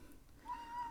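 A house cat cries with a thin, drawn-out meow in the background of a quiet room, faint and distant, lasting about half a second.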